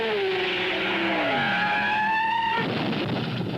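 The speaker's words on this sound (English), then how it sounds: "Lucas in the Ford heads for his accident" A 1960s race car, a Ford at the 1967 BOAC 500 at Brands Hatch, races and crashes: a loud, close engine whine slides down and then up in pitch before a rough, broad crash-like roar takes over near the end. No voices.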